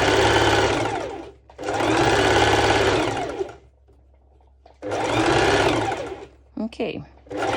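A sewing machine runs loud and close in two long bursts of rapid stitching through layers of swim skort fabric, with a quiet pause between them and a short stuttering start near the end.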